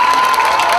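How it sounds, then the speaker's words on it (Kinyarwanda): A church congregation at a prayer service applauds and cheers in a short, loud burst of crowd noise with mixed clapping and raised voices. "Abakunda Imana bayongera amashyi nta kindi twayimarira."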